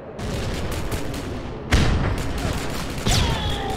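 Grenade blasts in the video game Rogue Trooper Redux: continuous gunfire and rumble, then two sharp booming explosions, with a high whistling ring after the second.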